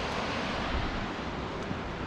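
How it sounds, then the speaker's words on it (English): A small waterfall near a cave on a forest trail at Sol Duc Falls in Olympic National Park gives off a steady broadband rushing roar, dense and unbroken, close and moderately loud. "I hope the camera's picking up that little waterfall in the background"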